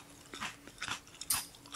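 A few crisp, close crunchy bites of a bell pepper and chewing sounds, quiet and irregular, with no talking.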